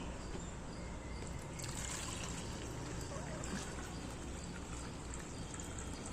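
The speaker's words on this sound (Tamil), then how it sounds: "இந்த மாதிரி ஃபுல்லாக தண்ணி வடிச்சுக்கலாம்." Water drains from soaked rice, trickling and splashing steadily close by, a continuous wet rushing that doesn't let up for several seconds.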